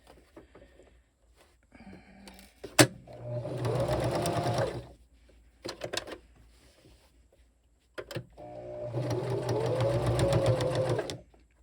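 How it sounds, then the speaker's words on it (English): A sewing machine top stitches around the square part of a snap on fabric for a memory towel made from a shirt, running in two steady whirring bursts separated by a pause with small clicks and handling. "I'm going to go right onto this square part of the snap and just top stitch around that perimeter."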